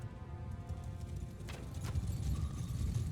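Cavalry horses gallop in Mount & Blade II: Bannerlord battle, a continuous low drumming of hooves that grows slightly stronger, mixed with distant battle noise and no speech.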